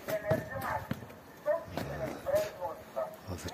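A calm, gentle horse moves with a few hollow hoof clops spaced irregularly nearby, mixed with other close-by sounds and some vocal-like tones.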